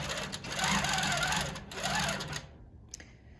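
Sewing machine stitching edge-to-edge quilting across a quilt, two rapid mechanical bursts of stitching with a brief pause between, then stopping into near silence, close and moderately loud.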